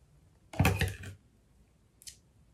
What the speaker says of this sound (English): I'm just taking some scissors and I'm just kind of cutting at an angle